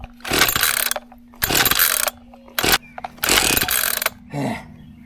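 A flooded small yard engine being cranked without starting: four loud bursts of rough mechanical cranking separated by short pauses, then a weaker, fading attempt, close by with no talk.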